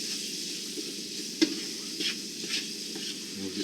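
Onions and mushrooms fry over high heat for a chicken and rice dinner, a constant close hiss of sizzling with a sharp utensil clack and a few stirring scrapes.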